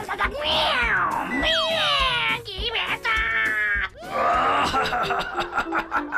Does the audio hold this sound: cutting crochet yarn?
no